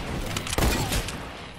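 Gunfire in a shooter video game rattles off in a quick burst with one heavier boom in the middle, set against busy background game noise.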